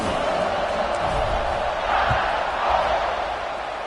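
A large football stadium crowd buzzes and murmurs after a touchdown, forming a dense, steady roar with occasional louder swells and scattered shouts.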